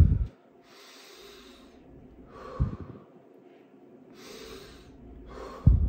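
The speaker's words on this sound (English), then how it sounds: "Take a couple deep breaths." Slow, deep breathing repeated twice, each long hissing inhale followed by a soft exhale, with a sharp close puff at the start, middle and end; close and fairly quiet with no talking.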